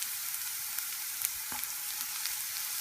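Shiitake mushrooms sizzle and fry in a hot pan for quinoa lentil burgers, a steady, bright crackling hiss with occasional small pops, close and continuous with no talking.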